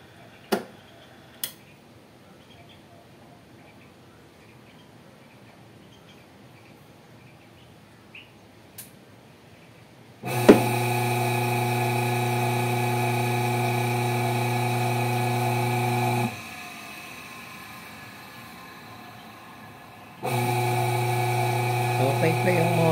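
A Whirlpool LSP780GP 7.8 kg top-load automatic washing machine, worn bearing and weak wash, starts with a few clicks, then runs with a loud, steady motor hum and whine, pauses briefly, and resumes the same drone.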